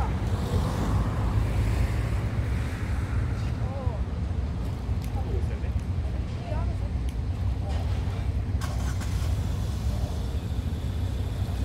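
Waves wash onto a seaside beach at Gwisan, a continuous rushing surf mixed with wind noise on the microphone and the occasional faint distant sound, steady throughout.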